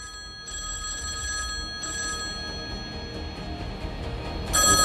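A telephone rings in a Minecraft movie scene, its steady electronic bell tone repeating for several seconds over a low background bed, then briefly louder at the end.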